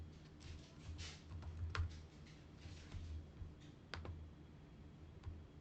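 Typing on a computer keyboard, close and quiet, with irregular light key clicks and a few sharper taps spread across several seconds.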